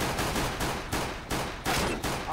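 Rapid, repeated gunshots from the game CS:GO crack out in a steady rhythm of loud bursts, about six shots spaced evenly, close and dominant with no talk.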